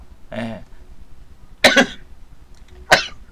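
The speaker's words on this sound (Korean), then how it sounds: "갑자기 기침 나요." Three separate coughs in a quiet room: a softer first one, then a sharp double cough, then a single hard cough after a pause.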